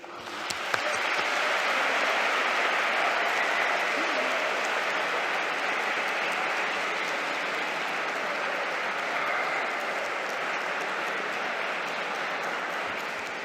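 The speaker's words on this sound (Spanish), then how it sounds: "le vamos a dar un fuerte aplauso de bienvenida" Steady, enthusiastic applause from a large audience welcoming a speaker at the Biblioteca Valenciana, sustained loudly for over ten seconds and slowly tapering.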